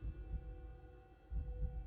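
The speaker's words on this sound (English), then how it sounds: "Now I can hear your heartbeat from here." A faint, muffled heartbeat thumps slowly in a low hum, with soft paired beats near the start and again toward the end.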